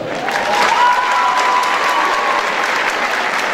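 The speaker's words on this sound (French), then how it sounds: "Merci de l'applaudir bien fort." Steady, loud applause from a pageant audience welcoming a Miss Picardie candidate, dense clapping with a faint whistle above it throughout.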